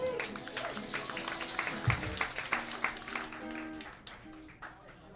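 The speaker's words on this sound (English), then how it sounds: "So give them a warm round of applause." Warm round of applause from an audience welcoming performers Susie Windish, Bill and Mike, a steady wash of clapping with a faint voice underneath, fading toward the end.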